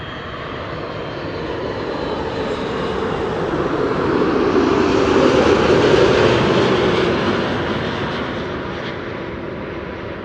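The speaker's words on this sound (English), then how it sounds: "This is KLM flight 775 arriving from Port of Spain, A330-200." A KLM Airbus A330-200 jet airliner arrives at Amsterdam Schiphol, its loud, steady engine roar swelling as it passes close and then gradually easing off, with no voices.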